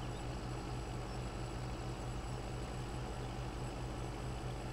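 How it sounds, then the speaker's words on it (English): A tractor engine in Farming Simulator 17 drones steadily and loudly with a thin high whistle riding over it, an unbroken mechanical hum with no voices. "I listen to that sound though, that whistle"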